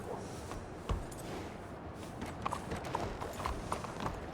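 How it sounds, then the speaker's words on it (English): Horse hooves clip-clop in a steady walking rhythm in the Red Dead roleplay game, moderately close and fairly even, with a louder thud near the start over a continuous outdoor background. "he's just a dumb horse"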